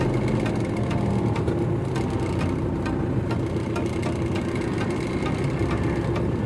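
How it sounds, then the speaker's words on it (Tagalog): A vehicle engine runs loudly and roughly on a road toward Tagaytay, giving a continuous rumbling drone with rattly texture throughout and no voices. "maingay ang ating makina"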